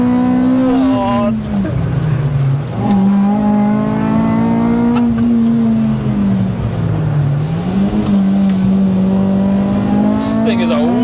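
A 282 bhp naturally aspirated Honda Civic EP3 with a K20 engine drives on track, a loud in-cabin engine drone rising and falling through gear changes as the tyres pick up stones, with people talking over it.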